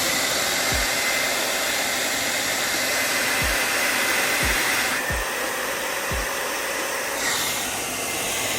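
Heat gun blowing a steady, loud airflow hiss while shrinking plastic wrap on an Air Jordan 8 Pea Pod shoe sample, with a few faint low thumps underneath and the tone shifting slightly as it moves.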